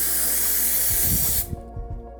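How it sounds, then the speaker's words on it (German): Aerosol brake cleaner sprayed onto a bicycle chain: a loud, steady close hiss that cuts off abruptly partway through, followed by dripping and faint clattering. "Ich werde die vorsichtshalber nochmal mit Bremsenreiniger einsprühen."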